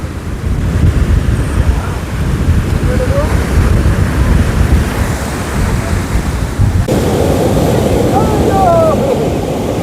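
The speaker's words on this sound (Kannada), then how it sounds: "ಇಷ್ಟೊಂದು ಅಲೆಗಳನ್ನ ನಾನು ಇದೇ ಫಸ್ಟ್ ಟೈಮ್ ನೋಡ್ತಿರೋದು" Ocean waves break and wash continuously on Malpe beach at Udupi, a loud, dense surf roar with wind buffeting the microphone, faint voices of people at the shore mixed in.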